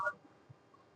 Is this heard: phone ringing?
yes